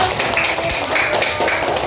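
Classroom pupils clap their hands together in a quick, scattered round of applause, a dense patter of claps heard fairly close with no talking over it.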